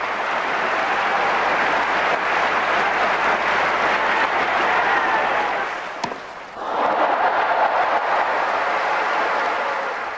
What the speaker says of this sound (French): Henri Lecomte se retire sous les applaudissements.